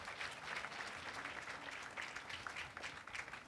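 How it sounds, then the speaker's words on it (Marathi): An audience at a school annual gathering applauds with dense, steady clapping that runs the whole time, a little distant and fairly soft. "जोरदार टाळ्या वाजवू आपण छोट्या एकोबासाठी"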